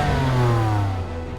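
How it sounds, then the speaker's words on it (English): A BMW twin-turbocharged straight-six engine revs loud and close, its tone sliding slowly downward as the revs fall away over a second or so. "The twin turbocharged straight-six engine produces 425 brake horsepower"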